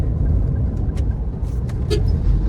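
A Daihatsu Terios on a narrow highway overtaking a truck, heard from inside as a loud, steady low engine and road rumble with faint clicks and rattles on top.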